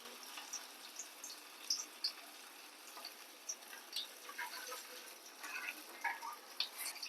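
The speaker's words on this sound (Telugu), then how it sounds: "బాండీలోకి మనం ఆయిల్ వేడిగా ఉంది అలా ఒక పీస్ ఒక పీస్ తీసుకుని మనం అలా బాండీలు వేసుకుందాం" Chicken pieces deep-frying in hot oil in a kadai, a soft steady sizzle with scattered small crackles and pops throughout, nearby and fairly quiet, no talking.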